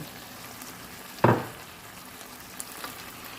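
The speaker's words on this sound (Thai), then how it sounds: "แล้วก็คั่วให้แห้งแล้วนะ" Meat for Thai khua kling is dry stir-fried in a pan: one sharp sizzling burst as it is tossed, then a low steady frying crackle with a couple of faint clinks from stirring.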